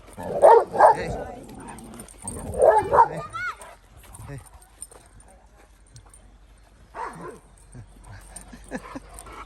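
Several Presa Canario dogs bark in loud bursts near the start, then quieter yips and whimpers follow while a person calls out and talks.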